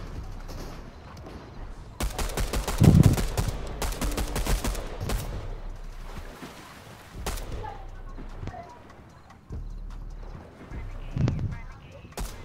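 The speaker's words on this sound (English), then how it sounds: "Wanna see how fast I can spam a pistol?" Rapid pistol fire in Fortnite comes as bursts of sharp shots in quick succession between quieter stretches, with people talking over the game sounds.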